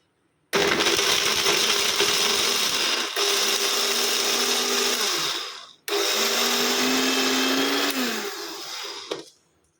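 A Kajafa bullet jar mixer grates coconut pieces in two loud, close whirring bursts of a few seconds each, with a short break between them.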